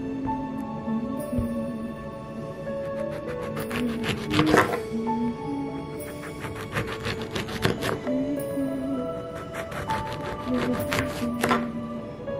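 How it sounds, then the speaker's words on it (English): Oranges sliced with a knife on a cutting board for drying into ornaments, a close run of repeated knife cuts and board taps in an uneven rhythm, with no one talking. "Once we have sliced all of our oranges"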